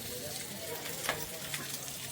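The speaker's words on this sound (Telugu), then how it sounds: "పక్కన పెట్టి పచ్చడి తాలింపు పెట్టుకుందాం ఇప్పుడు" Tempering for tomato roti chutney sizzles softly in hot oil, a faint, steady crackle with a few sharper pops, and no voices.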